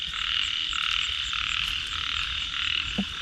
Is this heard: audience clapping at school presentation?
no